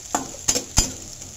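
Garlic and onion temper in hot oil in a pan in a home kitchen, a steady close sizzle broken by three quick scraping stirs, with no talking.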